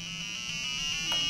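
A continuous high electronic buzz from a BrainPad board's buzzer holds steady for just over a second, growing slightly louder near the end.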